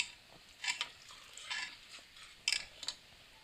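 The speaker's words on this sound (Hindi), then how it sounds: "इलायची पाउडर डाल देंगे, अच्छे से मिक्स कर लेंगे।" Spoon stirring cardamom powder into saffron milk for ras malai, a few soft scraping swirls in a pot, quiet and close with brief pauses between strokes.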